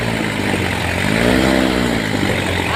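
Tractor stuck in the ground with its engine revving hard, a loud droning roar that rises in pitch and then falls back, steady and close.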